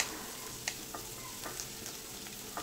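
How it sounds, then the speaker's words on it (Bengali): Chopped garlic frying in oil for a fenugreek-greens dish gives a soft, even sizzle with scattered small pops and crackles, fairly quiet and with no voices. "এবার রসুনটাকে হালকা লালচে করে ভেজে নেব"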